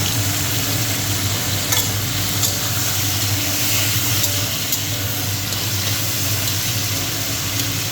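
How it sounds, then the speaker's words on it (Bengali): Dhenki greens with salt and turmeric stirred in a hot pan, a steady close sizzle of frying running the whole time with faint scraping of the spoon and no talk. "নেড়ে নেব"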